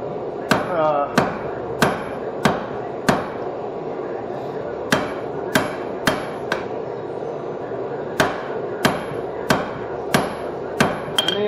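Heated steel struck with a hammer on an anvil while forging a hardy cut-off tool, a loud, close series of sharp ringing blows in uneven bursts with short pauses between groups.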